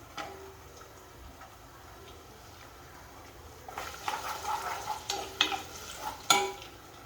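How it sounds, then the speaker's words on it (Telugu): Ginger pieces fry in peanut oil for ginger chutney, starting as a faint, quiet sizzle before louder bursts of stirring and scraping with a few sharp clicks near the end. "ఇలా వేయించుకొని చక్కగా ఎర్రగా ముక్కలు వేగేలాగా వేయించండి"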